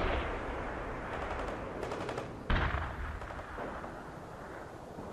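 Battlefield gunfire and explosions in the strategy video game World in Conflict, a dense continuous roar of distant shots with a sharp nearer blast midway.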